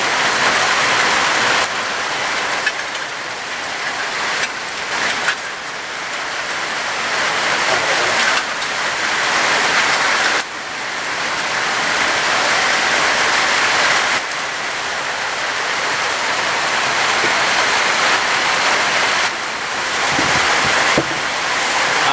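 Heavy rain drums on surfaces nearby in a constant broadband hiss, swelling and easing slightly, with occasional sharper drips and knocks, as rainwater is collected.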